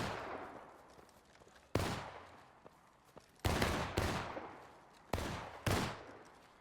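Musket volleys crack out in the War of Rights Civil War game, several sharp, loud bursts spaced a second or two apart, each trailing off in a long rolling echo across open ground.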